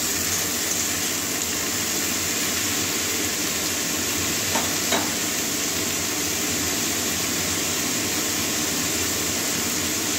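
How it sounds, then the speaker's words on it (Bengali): Potato and flat beans frying in a pan: a loud, unbroken hiss of sizzling oil close up, steady throughout with a couple of faint clicks midway. "এটাও ভেজে নেব 2 মিনিট।"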